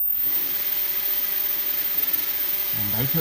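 A small hobby drone's motors whir steadily and loudly close by, a continuous spinning buzz throughout.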